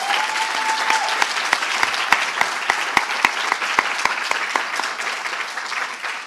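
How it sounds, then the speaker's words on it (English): A medical school declaration ceremony audience gives the parents a round of applause, a loud, sustained wash of clapping from a large crowd with sharper individual claps standing out throughout. "I think we should give them a special applause, round of applause to our parents."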